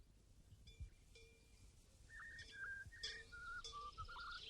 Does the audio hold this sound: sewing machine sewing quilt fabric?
no